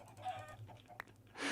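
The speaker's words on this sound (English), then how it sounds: "Oh, the chickens are escaping." Chickens clucking in Minecraft with the TerraFirmaPunk modpack, a few short close clucks over a low background hum, ending in a louder burst.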